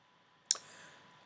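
A computer mouse gives one crisp, close click on a Submit button, followed by a brief faint ring-out in an otherwise quiet room.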